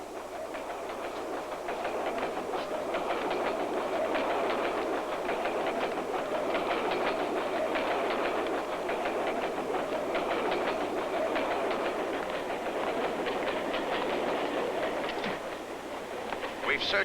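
A train rumbles steadily along the rails with a constant clatter and hum throughout, with faint voices underneath.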